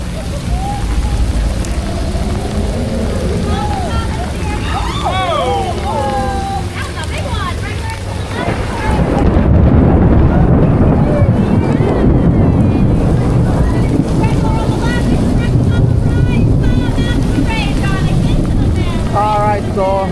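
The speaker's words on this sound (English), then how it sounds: "as you can see, raining here at Dark Universe, Darkmoor" Rain falling outdoors in the Dark Universe area of Epic Universe theme park, a broad steady wash that grows louder and denser midway, mixed with wind buffeting the microphone, with someone talking over it at first.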